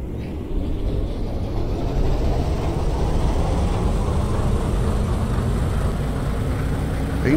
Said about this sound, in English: so you can use air pressure to get the engine started